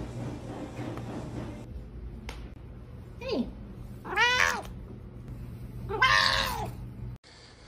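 A pet cat meows three times, each call rising and louder than the last, over a low steady indoor hum with a soft click or two.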